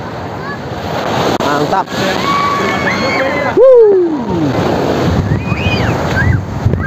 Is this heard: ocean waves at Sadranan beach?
yes